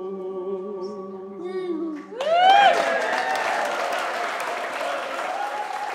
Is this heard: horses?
no